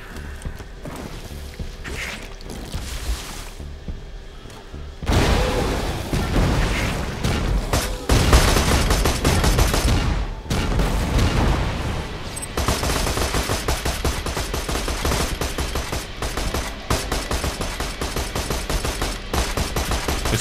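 Bursts of gunfire from a gun in Borderlands 2, with rapid repeated shots in clusters over a noisy game backdrop, quieter at first and then loud and sustained.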